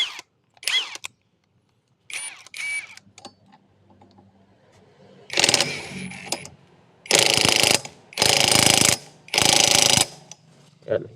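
A hand ratchet tightens parts during a clutch bell installation on a Honda PCX 160 scooter. Short clicking bursts come first, then several longer, loud ratcheting runs separated by brief pauses.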